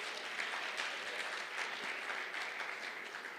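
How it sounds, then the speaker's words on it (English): Audience applause at a World Food Day event for Meals on Wheels, a steady, dense clapping that holds evenly throughout at moderate volume with no voices standing out. "Can we please give everybody else a huge round of applause one more time?"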